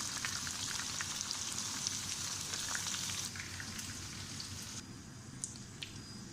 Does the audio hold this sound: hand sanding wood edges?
no